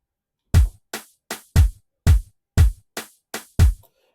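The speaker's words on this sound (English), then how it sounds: "And then we also add in a hi-hat." Drum sample for an Afro House beat, a hi-hat with eight crisp, punchy hits in an uneven groove, each with a quick decay, heard alone and fairly loud.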